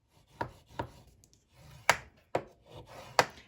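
Paper pressed and scored at half-inch intervals on a scoring board for a small Christmas mini album, six sharp scraping strokes in an uneven rhythm, close and clear with quiet gaps between them.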